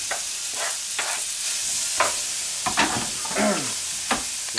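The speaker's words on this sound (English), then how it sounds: "Then we'll add the bacon, fry it up nice and crisp." Bacon fries in a hot pan with a constant bright sizzle, punctuated by irregular scrapes and taps as it is pushed around, heard up close without any talking.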